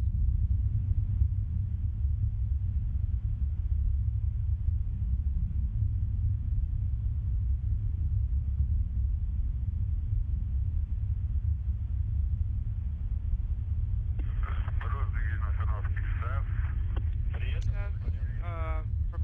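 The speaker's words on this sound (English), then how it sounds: "as the Soyuz makes its way into space" Soyuz rocket carrying the Expedition 31 crew toward the Space Station, heard as a deep continuous roaring rumble during ascent, distant and steady, with a voice speaking over it near the end.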